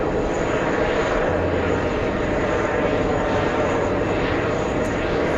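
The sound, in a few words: airliner departing on the Venice flight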